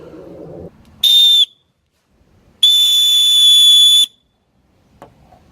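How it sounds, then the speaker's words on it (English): Two loud, shrill blasts from a survival paracord bracelet whistle, the first short and the second longer, separated by silence. "I'll go ahead and give a couple whistles out of here."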